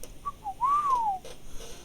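A man's whistle imitated by a voice in a tabletop fantasy roleplaying game, a short rising chirp then a longer swooping wolf-whistle that rises and falls, heard alone and fairly clear.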